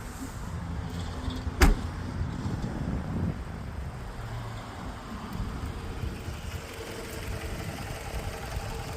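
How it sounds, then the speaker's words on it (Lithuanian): A Toyota Corolla Verso 1.8 running on LPG with Landi Renzo gas equipment idles at a steady low hum, with one sharp knock or door click early on and faint shuffling nearby. "Automobilis dirba dujomis tvarkingai."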